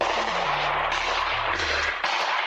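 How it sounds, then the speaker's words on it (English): A Ring doorbell camera outside a home picks up gunshots as muffled, distant booming reports over a constant hiss of background noise, with no voices. "A Ring camera on a home nearby captured the sound of the gunshots."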